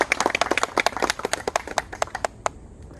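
A small crowd claps in sparse, uneven handclaps at an outdoor memorial ceremony and gravestone dedication, distinct close claps thinning out and fading to a last few isolated claps.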